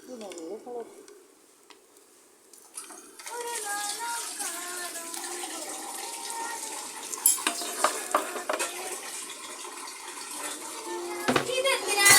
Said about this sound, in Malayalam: വറവിടണം. കടുകിട്ടു, ചുവന്ന മുളകിട്ടു, കറിവേപ്പില